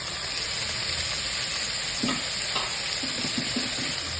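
Ginger garlic paste dropped into hot oil for biryani, sizzling and hissing steadily at close range, with a few stirring scrapes of a spoon in the pan toward the end.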